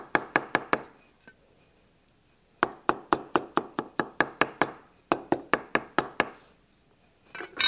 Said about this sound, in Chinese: 这里呢香菇要切碎